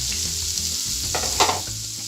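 Red spinach leaves are dropped onto onions frying in a pan, giving a steady, loud sizzle with a sharper burst as the greens land and a low hum running under it.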